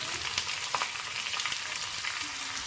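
Onions and crushed garlic sizzle in hot oil for sambar while being stirred, a steady crackling fry broken by scraping spoon strokes, close and with no talk.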